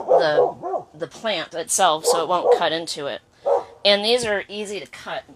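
Dogs bark in the background while a person keeps talking in the foreground, the barks mixed under and between the speech.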